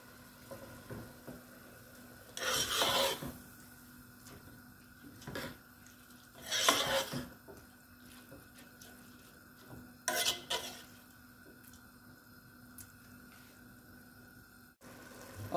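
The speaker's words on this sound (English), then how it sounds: "we're gonna give it a good stir" Red beans and rice are stirred in a pot in three short scraping bursts over a quiet, faint background, with a low simmer between strokes.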